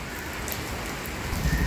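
Heavy rain pours down in a dense, steady hiss of drops hitting surfaces, loud and close, with no one speaking.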